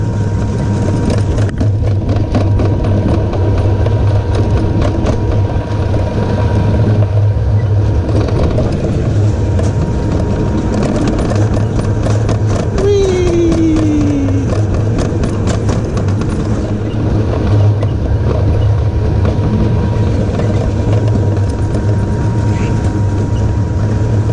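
A Bobkart roller coaster rattles and rumbles steadily over bumpy track, loud and continuous throughout, with a brief squeal partway through. Riders talk and shout over the noise.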